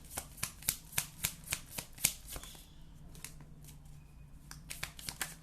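Tarot cards being shuffled by hand in quick, crisp bursts of riffling flicks, close and fairly soft, with a short pause in the middle before the rapid flutter resumes; no talking.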